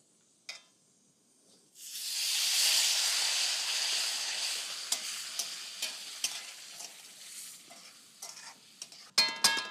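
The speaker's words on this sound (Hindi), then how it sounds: "देखिए, ये घी में भूनने की वजह से कैसे खिल रही है लापसी।" Broken-wheat lapsi roasting in ghee gives a steady sizzling hiss that swells after a short quiet start, with scattered scraping clicks from stirring near the end.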